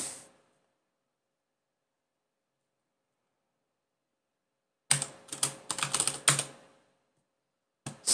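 Keystrokes on a computer keyboard typing a command: a brief tail at the start, long silence, then a quick cluster of close, crisp clicks and one last burst at the end.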